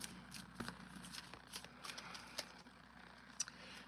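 An Oracle of Portals card deck shuffled close by, with a quick run of soft papery riffles and flicks that rise and fall irregularly at low volume.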